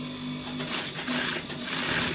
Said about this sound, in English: let's go to the sewing machine